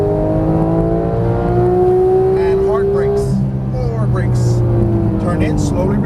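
A Porsche 991 GT3 with 475 horsepower accelerates hard on a race track, its engine note climbing steadily then dropping at a shift and rising again, loud and close inside the cabin while a driving instructor talks over it.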